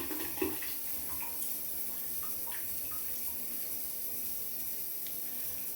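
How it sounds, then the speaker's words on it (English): Water trickles steadily as it drains from a home boiler system during a water feeder replacement, a faint continuous hissing flow with a couple of small clinks early on. "we can hear the trickle of water"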